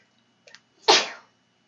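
A single loud, close sneeze after a faint sharp intake of breath, ending in a breathy burst that fades within a few tenths of a second.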